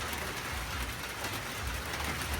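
Steady rain falling after a storm at a rural home, a constant soft hiss of drops on surfaces with no pauses or voices.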